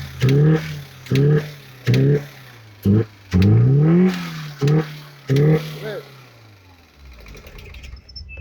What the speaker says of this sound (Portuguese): Tá vendo esse barulho aí, ó? Provavelmente esse barulho é junta rompida, entendeu?